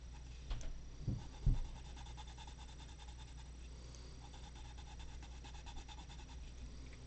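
A wooden colored pencil turns in a durable sharpener with a quiet, repetitive grinding rasp, faint and close, preceded by a couple of small knocks.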